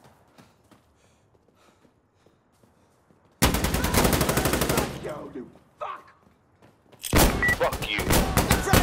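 Video game gunfire from an M-16 A4, with two long, loud bursts of rapid automatic shots separated by a brief pause, and someone shouting in between.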